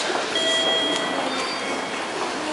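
A train at Kobe Sannomiya Station in Japan produces a loud, steady rumble and rattle, with faint high squeals over the continuous noise.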